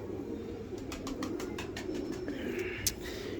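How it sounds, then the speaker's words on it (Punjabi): A golden-breed pigeon coos in a soft, steady, low murmur, with faint flutters and small chirps over it. "ਇਹ ਦੇਖੋ ਗੋਲਡਨ ਕਬੂਤਰ ਮਾਸ਼ਾਅੱਲਾ"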